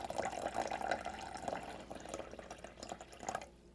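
Water from a ZeroWater filter jug trickles and drips faintly into a container, a soft, irregular splashing pattern that fades out at the end.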